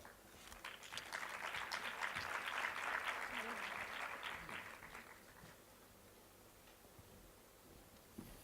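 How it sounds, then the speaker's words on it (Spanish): An audience claps for the moderator at a Spanish business conference panel on LGBT diversity, a steady burst of applause that rises, peaks midway and fades to a quiet room. "Un aplauso, por favor."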